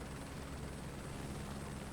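Helicopter in Microsoft Flight Simulator 2024, flying over Rotorua Kaharoa, a continuous dense rotor and turbine drone with a thin high whine, steady and loud throughout with no talk.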